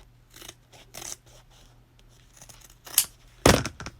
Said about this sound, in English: I'm just trimming the edge.